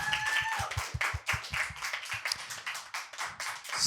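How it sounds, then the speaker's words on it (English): An audience applauding at the ACMies 2025 awards event: dense, fairly close clapping from many hands that holds steady for several seconds. "One last round of applause"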